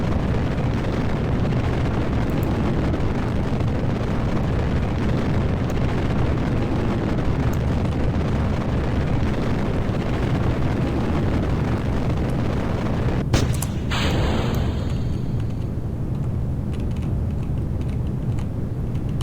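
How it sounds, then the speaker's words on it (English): Rocket launch in Kerbal Space Program, a small Phileas rocket with strong thrust off the pad, heard as a steady, loud roaring rumble that runs throughout, with a sharp crackling burst and shift in tone near the end. "All right, another Phileas rocket launch."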